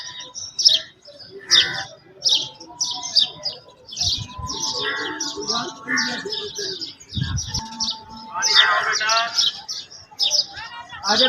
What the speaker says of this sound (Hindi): दरबार में कबूतर वगैरह भी मौजूद हैं